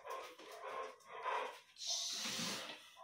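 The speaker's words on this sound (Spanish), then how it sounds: "Espérate que este va a volver a ladrar." A dog barks and whimpers in short bursts, fairly close, with a sharper yelp near the end and no talking.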